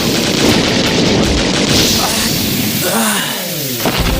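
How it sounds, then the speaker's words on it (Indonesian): Gas bullets are fired in a Kamen Rider Agito scene, a dense, loud barrage of gunfire bursts that fills the whole stretch, with brief tonal calls breaking through toward the end. "Ryo malah menjadi sasaran tembakan peluru gas."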